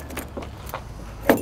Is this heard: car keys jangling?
yes